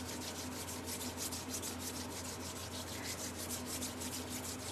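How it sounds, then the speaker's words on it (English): Palms rub together in quick back-and-forth strokes, a soft rhythmic swishing that repeats steadily at close range and low volume with no talk. "Rub your hands together."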